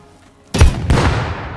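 A grenade goes off in the survival game Rust as a sudden loud, close boom, followed by a second blast and a long rumbling tail, over faint background noise.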